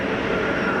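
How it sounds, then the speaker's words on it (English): A steady broadband roar of EasyJet jet airliners taxiing out at Geneva Airport, loud and continuous, heard from nearby outdoors. "A couple of EasyJets taxiing out"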